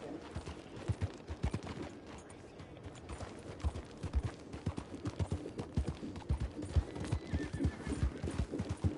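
Horse hooves clip-clop in Red Dead Redemption 2 on PS5, a quick steady rhythm of close hoof strikes running through the whole stretch over a low game ambience.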